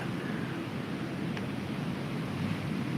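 Strong wind roars steadily around a tower in a constant low rumble, buffeting the microphone with no voices or other distinct sounds.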